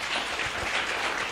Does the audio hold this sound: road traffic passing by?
no